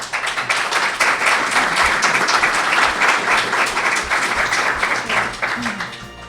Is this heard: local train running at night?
no